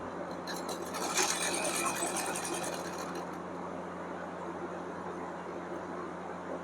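A sewing machine stitches fabric for a pair of ladies' pants, a faint, steady mechanical whir running throughout with a slightly busier stretch near the start.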